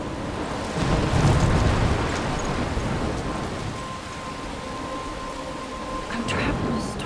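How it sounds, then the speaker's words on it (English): A thunderstorm in the video game Life Is Strange Remastered: steady rain hiss with deep rolling thunder swelling early and again near the end, a faint tone lingering in the background. "I'm trapped in a storm?"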